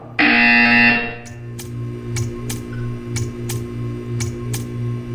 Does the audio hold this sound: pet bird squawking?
no